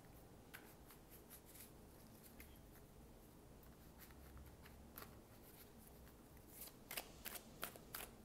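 Tarot cards being shuffled by hand, heard as faint, close, crisp riffling bursts that repeat irregularly and grow denser and louder near the end, with no talking.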